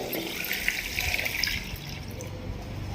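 Tamarind water pours into a pan of small-fish curry (chepala pulusu) in a home kitchen, a steady close liquid splash and trickle lasting a few seconds with no talk over it.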